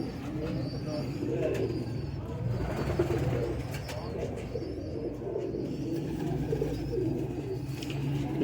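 A Kasuri pigeon hen coos steadily at close range in a loft, with other pigeons and birds around; someone talks over much of it.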